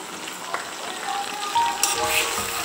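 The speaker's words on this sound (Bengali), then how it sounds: "এরপর আমরা মশলা বাটাটা এর মধ্যে ঢেলে দেব।" Ground spice paste poured into hot oil with fried chopped onions for a Bengali chicken kosha, giving a steady close sizzle and crackle that swells after a splash midway.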